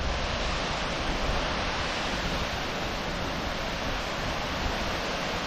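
A forest waterfall roars as a dense, steady wash of rushing water, loud and unbroken throughout, with no voices.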